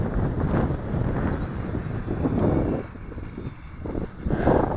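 Strong wind gusting across an outdoor flying field as a radio-controlled model plane comes in to land, a loud, steady buffeting roar on the microphone that swells and eases in waves, with no voices.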